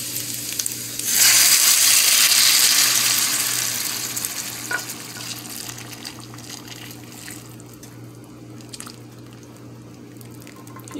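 Chicken gizzards fry in a pan as sauce is poured in, setting off a loud burst of sizzling and bubbling that gradually settles into a steady, quieter simmer with no talking.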